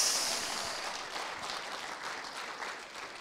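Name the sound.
church congregation clapping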